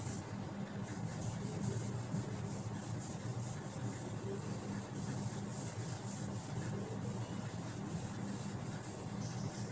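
A duster rubs writing off a classroom board in a continuous, even scrubbing swish that runs for about ten seconds, close and steady with no talk over it.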